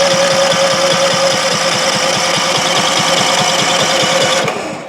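A Predator 5000 generator that fell off a truck and now won't start runs roughly and loudly, with a rapid, even knocking pulse throughout before cutting off at the end.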